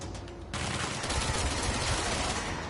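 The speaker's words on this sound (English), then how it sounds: "I can see somebody shooting at me." Sustained gunfire in the action video game Control, a dense, steady burst that starts suddenly after a brief quieter moment and carries on loud to the end, with no speech over it.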